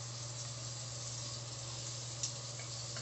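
Clams frying in butter and a little oil in a wok-style pan give a steady, close sizzle with even, constant crackle, broken by one brief clink near the end; no one speaks.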